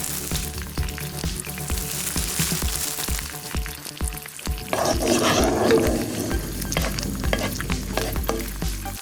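Smoked meat frying in a pan for a cream pasta, a steady close crackle with scraping and stirring clatter, growing denser and louder midway through.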